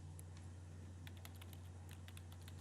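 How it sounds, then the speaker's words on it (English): Rapid clicking of computer keys typed in a quiet room, a steady patter of keystrokes over a low constant hum, fairly faint and close. "It's a keyboard."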